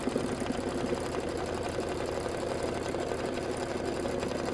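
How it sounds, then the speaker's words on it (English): An embroidery machine sews a satin stitch on a reindeer tote bag, giving a steady, fast mechanical whirring and ticking. The sound is continuous and close, with no voices throughout. "So we're going to do the satin stitch on this"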